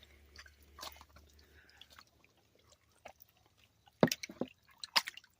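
Salted deer meat stirred by hand or spoon, giving soft wet squishes and drips, faint and intermittent, with a few sharper sloppy sounds near the end.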